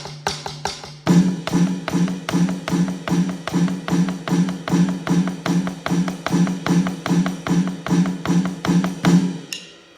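Drum kit groove with eighth notes on the ride cymbal and quarter notes on the snare, a steady even pattern played alone after a brief count-in of taps, loud and close.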